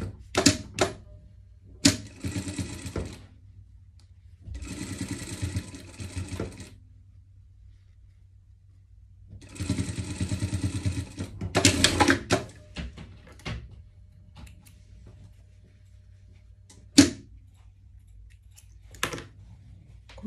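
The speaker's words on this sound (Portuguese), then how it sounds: "Vamos rebater essa costura aqui para dar um acabamento melhor." A sewing machine topstitches a shoulder seam on surgical scrubs, running in several bursts of rapid mechanical stitching a few seconds long, split by quiet pauses and sharp clicks and knocks of handling.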